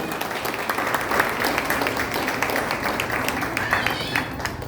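An audience at a children's programme in Bangalore applauds in a steady, dense wash of many hands clapping. The sound is moderately loud and continuous, with faint voices mixed in.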